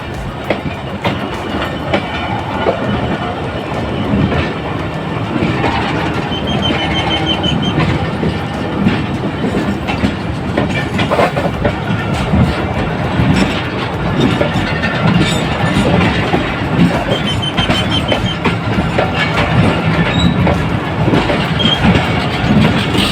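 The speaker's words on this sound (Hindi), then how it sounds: "पीएलसी पिक करने के बाद गाड़ी आगे की तरफ रवाना" A train pulls out of Habib Kot railway station in Pakistan, its carriages clattering steadily over the rail joints at close range with a constant rumble and occasional faint wheel squeal, and no talk.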